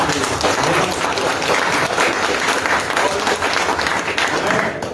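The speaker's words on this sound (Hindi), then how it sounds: "आज जितने भी लोग हैं मैं चाहता हूँ बढ़िया ताली बजाकर दया सर को यहाँ" Sustained audience applause at a farewell and honour ceremony for district education officers, loud and dense for the full stretch with some crowd murmur and a voice mixed in.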